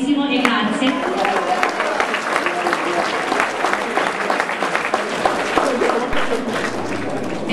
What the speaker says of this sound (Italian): Quindi un applauso grandissimo e grazie.